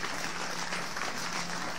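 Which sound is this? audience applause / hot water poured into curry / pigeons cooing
audience applause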